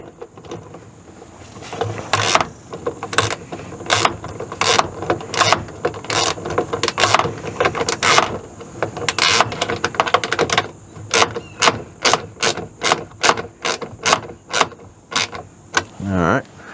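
A ratchet snugs bolts onto an RV sewer valve, with a rapid run of sharp clicks coming in bursts of strokes, loud and close, and a louder string of separate clicks near the end.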